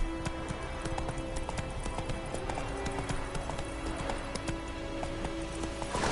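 Roach, a horse in a video game, gallops in a steady, rapid run of hoofbeats, close and continuous, with sustained in-game tones underneath.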